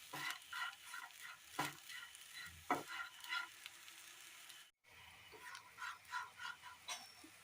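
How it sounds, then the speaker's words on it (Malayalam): Finely chopped coconut mixture stirred in a pan with a spoon, repeated scraping strokes in an uneven rhythm over a soft sizzle, with one brief silent gap partway through. "ചെറുതായി അരിഞ്ഞെടുത്ത തേങ്ങ, നന്നായി മിക്സ് ചെയ്യാം."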